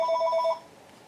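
A telephone rings with an incoming call in an indoor workspace, a short electronic warbling trill at moderate volume that cuts off after half a second, leaving quiet room tone.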